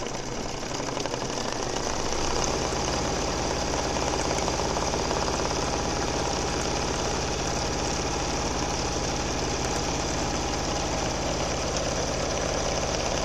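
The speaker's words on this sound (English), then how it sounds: "So it depends what stitch per minute your embroidery machine does." An embroidery machine stitching a retreat badge patch with a fancy border stitch, a loud steady mechanical whir and rapid needle chatter that starts up and runs continuously nearby.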